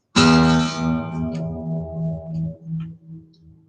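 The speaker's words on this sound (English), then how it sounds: "So you'll take your guitar and pluck it right at the middle, and the note will sound like this." A single guitar string plucked at its middle sounds its first harmonic, a sharp, loud attack that settles into a sustained tone and fades over a few seconds.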